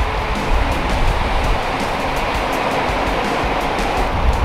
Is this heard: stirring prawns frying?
no